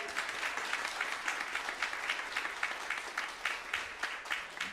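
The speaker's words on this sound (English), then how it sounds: "Big round of applause for Amelia" Concert audience clapping steadily after a performance, a close, continuous patter of many hands with slight rhythmic pulsing, no talk over it.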